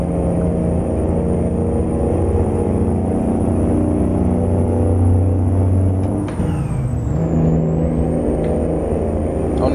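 A heavy truck engine in American Truck Simulator drones with a loud, deep, steady rumble and rich low harmonics, dipping briefly mid-way as if shifting, then settling back to a constant cruising hum.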